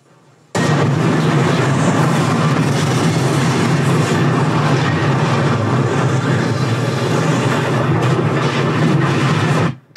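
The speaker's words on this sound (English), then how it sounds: "the big explosion" A big explosion from the submarine film U-571 plays through a home theater system, a loud, sustained roaring blast with deep low rumble filling the room for nearly ten seconds before cutting off.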